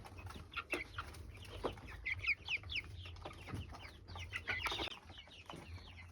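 A chicken clucking softly while being hand-fed, with short repeated clucks and faint chirps close by over a low background hum.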